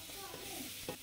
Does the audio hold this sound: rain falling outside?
no